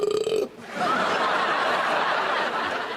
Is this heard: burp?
yes